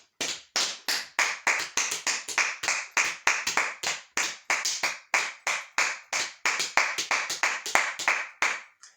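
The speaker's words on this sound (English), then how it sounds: "So let's clap our hands in praise of God's glorious creation" A congregation in church claps its hands together in a steady, rhythmic run of loud, close claps that carries on for several seconds with no talking.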